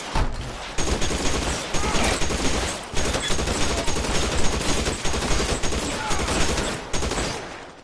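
Video game shootout in L.A. Noire with shots aimed at a car's tires, a loud, continuous barrage of rapid gunfire with almost no pauses.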